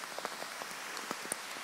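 Rain pattering in woodland near an old log road above a river bottom, a steady fine hiss with scattered soft drops and ticks close by, no voices.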